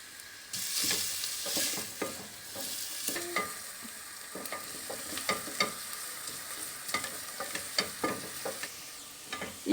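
Carrots and onions sautéing in butter for a pea dish, a gentle sizzle punctuated by frequent rhythmic spatula scrapes and knocks against the pan, close by, no speech.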